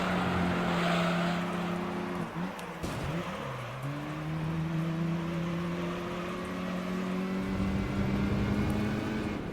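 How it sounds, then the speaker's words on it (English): A Chrysler PT Cruiser in a Gran Turismo 3 race revs and accelerates, the engine tone climbing through gear changes with a dip and recovery midway, steady and close throughout. "we're really accelerating vigorously here"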